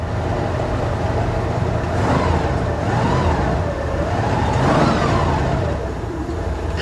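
A 1982 Ford F150 XL with 76K miles, sitting since 2013, running steadily on its own fuel: a loud continuous engine rumble with a couple of gentle rises in pitch as it revs, no talking.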